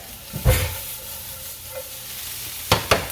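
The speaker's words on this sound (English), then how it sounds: "since this is simmering" Food simmering in a pan sizzles with a soft, steady crackle, broken by a few louder stirring scrapes and clatters near the start and end.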